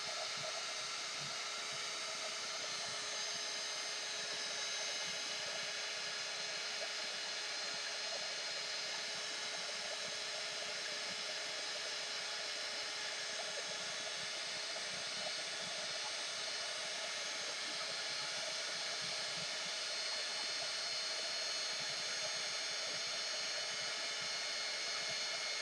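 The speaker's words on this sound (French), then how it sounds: "moi j'appelle ça un gun à air chaud, mais c'est un hot gun." Hot air gun for heat embossing on vellum paper blowing continuously, a steady airy whoosh with a faint motor whine that holds evenly throughout, alone with no talking.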